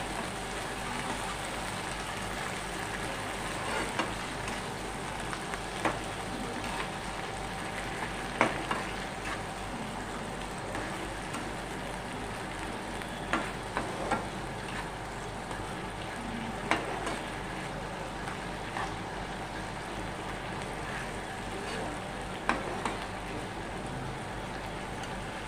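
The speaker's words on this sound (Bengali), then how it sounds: "এবার এর মধ্যে আমি টক দইটা দিয়ে দিচ্ছি" Sour yogurt goes into a hot pot of cooking potol (pointed gourd), a steady close sizzle with soft stirring and scattered light taps continuing throughout.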